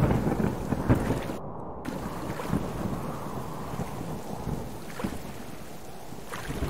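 A thunderstorm with rain in the survival game Subsistence: a deep rolling rumble of thunder and dense rain hiss with gusting wind fills the scene, steady and fairly loud throughout.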